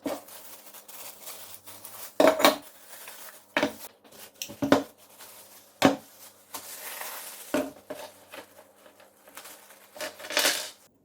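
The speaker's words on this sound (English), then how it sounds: "Here inside we've got these 3 fan blades, metallic fan blades." Three metallic blades of an industrial ceiling fan are handled, giving sharp close clanks and rattles in irregular bursts with quiet gaps between them.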